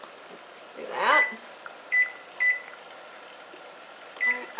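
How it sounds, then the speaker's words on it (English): Kitchen timer being set for two minutes while refrigerator pickles are cooked, giving several short, separate electronic beeps at irregular intervals, preceded by a brief bit of talking. "I'm going to set my timer for 2 minutes."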